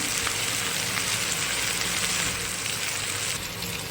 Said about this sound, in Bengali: আমাদের এই যে আলু ভাজা বসিয়েছি